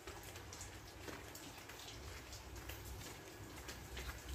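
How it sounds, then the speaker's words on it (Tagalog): Heavy rain falls outside in a dense, even patter that holds steady throughout, with faint scattered drips and taps mixed into the wash. "So, grabe maulan dito."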